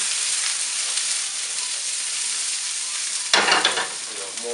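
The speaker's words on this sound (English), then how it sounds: "Then from here, add the green beans, light saute." Green beans sautéing in a hot pan give a loud, dense, steady hiss, and near the end a burst of clattering stirring against the pan cuts through the sizzle.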